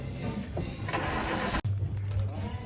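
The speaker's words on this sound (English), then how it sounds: "now I gotta start a car first" A Volkswagen Golf Mk1 engine cranks and catches, then settles into a steady low rumble after a brief cutout, with faint voices in the background.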